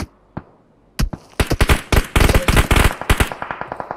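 Gunshots in a competitive shooter video game scrim, a few isolated cracks, then a fast, loud volley of close shots in quick succession that thins into lighter pops toward the end.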